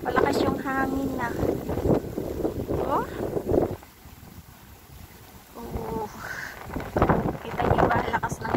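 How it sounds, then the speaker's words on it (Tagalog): Strong wind during a snowstorm in Moscow buffets the microphone in loud rumbling gusts, with a person talking over it at the start and end. "Kita niyo ba lakas ng hangin?"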